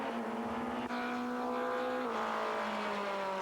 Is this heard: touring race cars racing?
yes